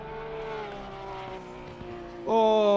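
Porsche race car in a sim racing game at Suzuka, its engine whining steadily and then climbing sharply to a loud high rev near the end.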